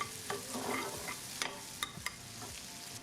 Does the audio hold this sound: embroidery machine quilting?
no